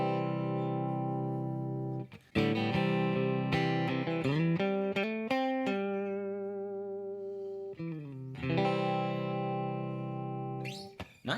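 An electric guitar through a Walrus Audio ACS1 amp modeler plays sustained chords and quick note runs through a crunchy, amplified tone, ringing out with slight distortion and no talking.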